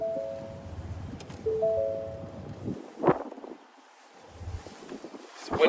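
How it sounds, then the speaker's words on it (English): Gusty outdoor wind buffets the microphone beside a 2021 Ford Expedition Max XLT SUV, a steady low rush with a few stronger gusts and no talking. "It's windy out today."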